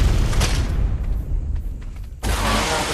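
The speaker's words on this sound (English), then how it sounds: "You guys rocket the hell out of that thing." Heavy booms from rockets striking a base in a video game, a loud rumbling blast that decays into a quieter stretch before another dense burst of noise cuts in.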